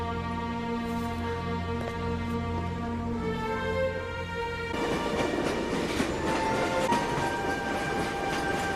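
A train in a movie scene rolls along with a steady rumble and sustained tonal hum, swelling into a louder, rushing, broadband roar partway through, with no talk over it.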